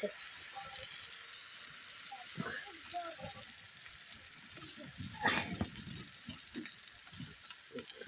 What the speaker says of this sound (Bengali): আমি এখন চিকেন নাড়ছি